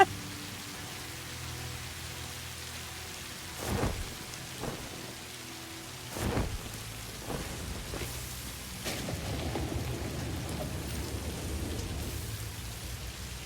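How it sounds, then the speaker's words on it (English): Steady rain falling on the ground in a video game, a continuous hiss with a few louder thunder-like rumbles rising and fading through the middle, no voices. "I love how you can hear the sound of the rain hitting the floor despite the fact I'm in the air."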